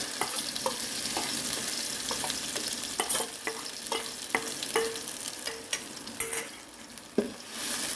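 Eggplant stir-fried in hot oil sizzles steadily while a spatula scrapes and knocks against the pan in irregular close strokes, no voices.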